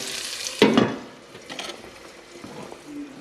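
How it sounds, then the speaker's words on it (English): Small cubed potatoes placed into hot fat, a loud sizzling burst as they hit, then a softer ongoing crackle with a few stirring scrapes close by. "We're going to evenly place the potatoes in the fat."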